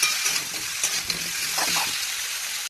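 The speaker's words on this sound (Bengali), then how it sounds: "দেখো ভালো করে আমি এটাকে কষিয়ে নিয়েছি" A thick curry fries in a pan with a loud continuous sizzle and bright crackle, broken by scraping stirs and a few clinks of the spoon.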